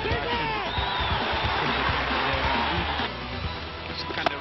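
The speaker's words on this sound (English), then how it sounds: "the celebrations begin in the crowd" Stadium crowd at an Afghanistan versus Zimbabwe one-day international cricket match cheering after a wicket falls, a steady loud wash of voices and whoops holding throughout with a slight dip near the end.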